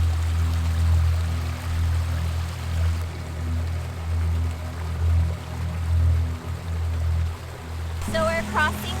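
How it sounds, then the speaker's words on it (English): A small mountain stream in the French Alps gives off a steady rushing, pouring wash over a low hum from start to finish, and a voice comes in briefly at the end. "So we're crossing this little stream"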